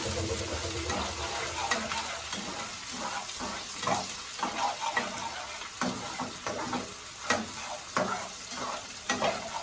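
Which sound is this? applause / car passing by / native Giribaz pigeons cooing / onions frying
onions frying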